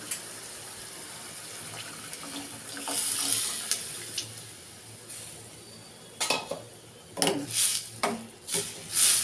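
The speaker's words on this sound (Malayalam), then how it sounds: "ഇനി ഞാൻ കട്ടി മോരുണ്ട് ഞാൻ എടുത്ത് മിക്സ് ചെയ്ത് വെച്ചിരിക്കുവായിരുന്നു അതിനകത്തേക്ക് ഒഴിക്കുക" Thick buttermilk pours in uneven surges into a pot, gurgling and splashing louder toward the end, over a faint steady hiss.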